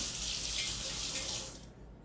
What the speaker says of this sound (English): I'm just gonna rinse my knife.